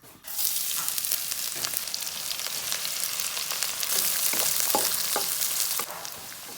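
Cooking oil sizzling in a wok as the base for stir-fried cabbage with Cantonese sausage, a steady bright hiss starting abruptly and running close and loud, with a few scattered pops, dropping slightly near the end.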